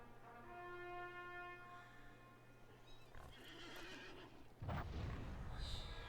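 A war steed neighs in a video game, a long, bright whinny that tapers off and then gives way to snorts. Hoof clops and a heavy thud follow, and some faint game ambience runs underneath.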